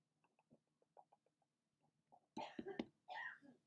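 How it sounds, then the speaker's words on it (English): A few soft taps and clicks in a quiet room, then a burst of coughing and throat clearing from someone nearby. "my wife's coughing in the background."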